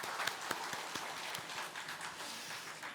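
A church congregation claps in praise at a Korean church service, a steady patter of many hands at moderate distance that fades slightly toward the end.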